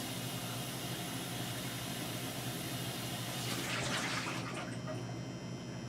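Tap water runs steadily while a container is rinsed out during skillet meatloaf prep, a constant broad rush that swells briefly louder near the end.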